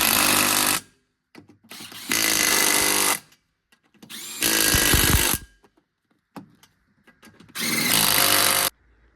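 A power tool drives the wheel lug nuts on a Kawasaki Mule Pro in four loud, close bursts, each lasting about a second with a gap of quiet between.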